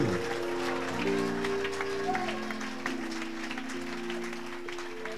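Scattered audience clapping at a church service, moderate and continuous beneath sustained organ or keyboard chords, fairly distant in a large hall.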